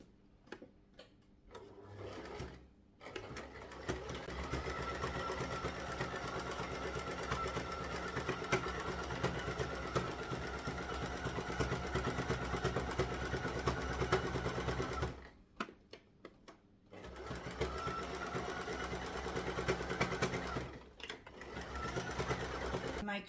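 A sewing machine back stitches to close the opening of a fabric scrunchie, running steadily for long stretches with two short pauses, its motor hum and rapid needle clatter close and clear.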